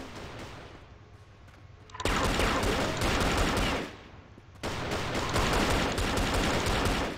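Bursts of rapid gunfire in the online shooter CrossFire, with Dual Colt Volcano pistols being fired: two loud, dense volleys of shots separated by short quieter gaps, heard alone without talk.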